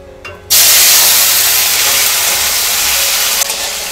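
Chopped tomato drops into hot oil already holding whole cumin and cardamom, and a sudden loud, close sizzling hiss erupts and holds steady for about three seconds.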